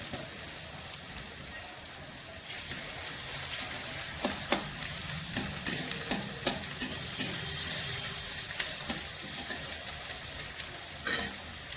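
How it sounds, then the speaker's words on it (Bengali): Grated garlic and ginger fry in a pan for palak paneer, a steady low sizzle broken by a series of sharp spoon clacks and scrapes against the pan, close up and without speech. "গ্রেট করা রসুন দিচ্ছি, রসুনটা একটু বেশি দিচ্ছি, আদা দিচ্ছি"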